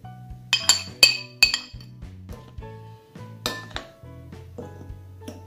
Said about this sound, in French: je vais mélanger la farine avec la levure